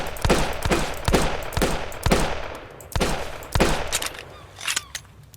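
Scrap pistol firing in the survival game Sunkenland: a series of sharp, punchy gunshots at irregular intervals, roughly six or seven shots, each with a short ringing tail, loud and close with no talking.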